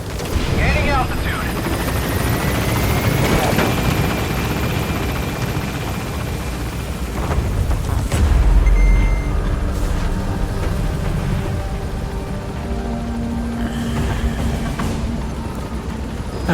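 Helicopter rotor and engine noise from Metal Gear Solid V: The Phantom Pain as the aircraft lifts off and gains altitude, a steady loud drone with game effects, while someone talks over it.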